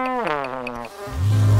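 A cartoon bee buzzes in a high, wavering drone that slides downward in pitch, then breaks into a lower, louder rough buzz near the end, close and alone with no talk.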